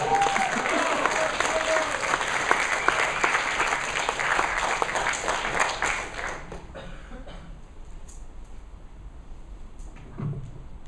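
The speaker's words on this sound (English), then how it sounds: "Give him a round of applause." A roomful of people claps for a speaker at a technology innovation event, dense applause that holds for about six seconds, then fades to scattered claps and quiet room noise.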